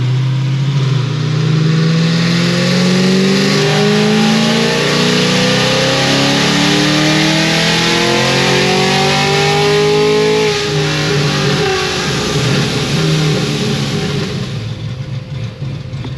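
A car engine fitted with a Procharger supercharger revs hard through a first pull, its whining tone climbing steadily for about ten seconds before falling away. The sound is loud, close and continuous, with no talking.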